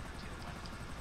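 A helicopter in GTA 5 gives off a steady, dense rotor and engine roar, continuous and moderately distant with no pauses.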